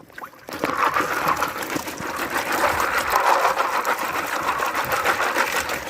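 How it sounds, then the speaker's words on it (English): Gold pan with a classifier submerged and shaken in water, a continuous sloshing, rushing churn that starts abruptly and stays loud and steady with gritty rattling texture. "And submerge your pan"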